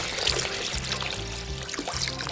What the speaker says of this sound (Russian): Заливаем водичку.